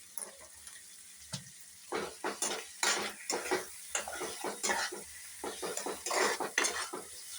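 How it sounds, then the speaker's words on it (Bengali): Spice masala with tomato is stirred and fried in a pan: bursts of sizzling and spoon-on-metal scraping come in uneven clusters over a quiet background, close and fairly soft, with no talking. "মশলাটা খুব ভালো করে কষাবো, টমেটোটা গলে যাবে।"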